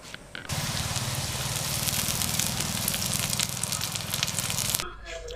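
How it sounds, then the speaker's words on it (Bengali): Onions frying in oil in a wok over a wood-fired stove give a loud, steady sizzle that starts abruptly, holds for about four seconds and then cuts off. "দেখুন, প্রথমে আমি কড়াইয়ে পেঁয়াজ এবং তৈল দিয়ে দিয়েছিলাম"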